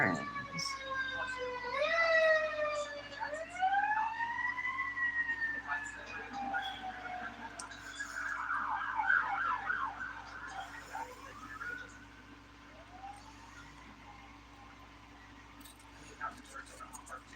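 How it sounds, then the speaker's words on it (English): Emergency vehicle sirens wail outside, sweeping up and down in repeated rising and falling tones over a steady low hum, loud at first and then fading into the distance. "Sirens."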